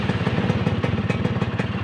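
A Yamaha F1ZR two-stroke motorcycle fitted with a racing exhaust runs close by, its rapid, rough, popping engine pulse steady and loud throughout with no voices.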